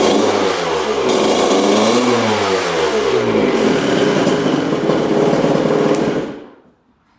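A Honda two-stroke dirt bike engine running loud and close, with a sustained, buzzy exhaust note whose pitch rises and falls unevenly as it bogs at the top end, then cuts off abruptly near the end.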